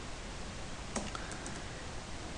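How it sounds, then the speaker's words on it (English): Quiet keystrokes on a computer keyboard while entering a Linux terminal command, a brief cluster of light clicks around the middle over a steady background hiss. "So let me type here sudo"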